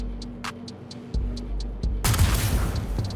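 Gunfire from the Atzkav sniper rifle in the video game Star Citizen: a few sharp, loud shots with booming low tails, then a burst of dense crackling impacts and debris near the end.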